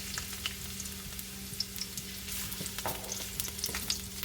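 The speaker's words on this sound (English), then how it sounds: "we're going to saute our garlic and onion. Let's do the onion first." Onion sautéing in about two tablespoons of oil in a pan for pork and liver igado, a quiet steady sizzle with scattered small crackles and stirring taps, no voices.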